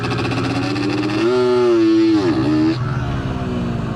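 A 1970s-style two-stroke motorcycle engine at a drag race exhibition revs loudly up close, its pitch climbing, wavering and falling as the revs sag, with a raspy, buzzing exhaust throughout.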